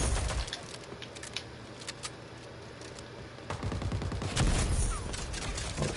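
Sniper gunfire in a video game: a few sharp, scattered shots over a dense background of game noise, with a louder burst of fire near the end.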